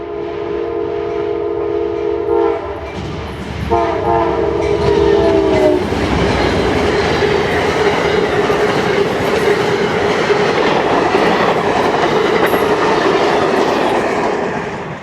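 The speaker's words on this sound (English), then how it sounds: "Only minutes later on track 1 comes Amtrak 91, the southbound Silver Star." Amtrak 91, the southbound Silver Star passenger train, passes close by at a station stop on track 1, opening with loud sustained horn blasts that give way to a steady, roaring rumble of railcars rolling past.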